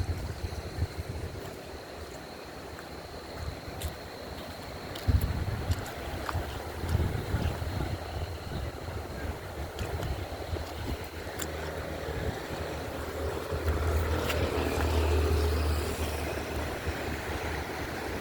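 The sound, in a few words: water rushing under a bridge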